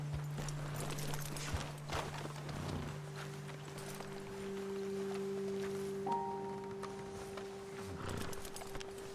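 Faint hooves clop along at a walking pace beneath a sustained musical drone, with an occasional snort or whinny, in Red Dead Redemption 2.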